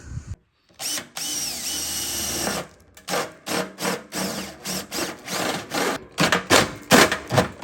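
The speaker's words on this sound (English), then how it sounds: "I got to drill the appropriate hole with a step bit." A power drill with a step bit whines and grinds through a heater's metal casing in repeated bursts, rising and stopping in a stuttering rhythm, close and loud.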